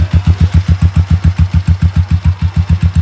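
A motorcycle engine runs at a steady idle, a deep, even pulsing thump of about six beats per second, loud and close with no voices.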